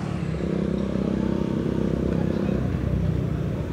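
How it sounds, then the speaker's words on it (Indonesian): A motorcycle with a loud aftermarket exhaust drones steadily on a city street, a close, rough low-pitched engine rumble that holds constant throughout. "motor kayak knalpot brong."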